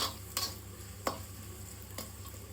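Rice with carrots and beans is stir-fried in a hot pan for street-style egg fried rice, a soft steady sizzle punctuated by three sharp spatula knocks against the pan.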